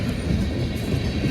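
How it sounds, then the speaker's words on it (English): Freight train of tank cars rolling past close by, a dense steady rumble with rail clatter and wheel noise filling the whole short stretch, no voices. "Bunch of tankers on this train."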